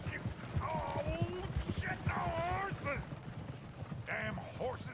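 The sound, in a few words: horses in Red Dead Redemption 2 video game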